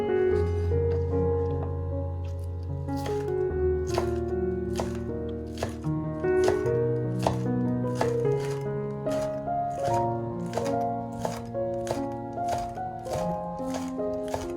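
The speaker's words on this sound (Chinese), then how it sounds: "准备把小葱切到头花" A knife chops spring onions on a board in quick, regular cuts that repeat crisply and close at hand, with gentle music playing beneath.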